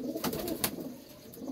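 Pigeons cooing in a soft, continuous murmur at close range, with a few brief brighter accents in the middle; no talking.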